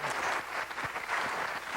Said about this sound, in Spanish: Este aplauso es para usted.